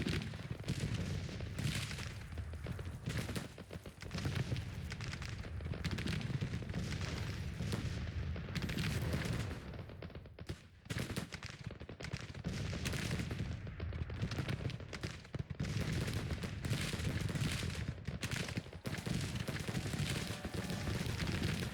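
Civil War cannons and musketry roar in continuous, dense volleys of booms and crackling gunfire on a distant battlefield in Grand Tactician: The Civil War, with a brief lull midway.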